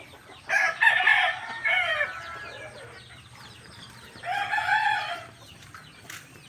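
A rooster crows twice at moderate distance, each call drawn out and separated by a quiet gap, with soft clucking around it, on a small farm with fighting cocks.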